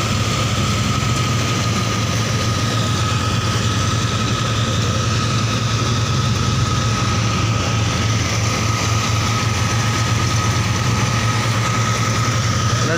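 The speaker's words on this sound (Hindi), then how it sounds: "दोनों मशीनें चल रही है," Two New Holland 3630 tractors run together in a field, making a loud, continuous low engine drone that holds steady throughout with no talking.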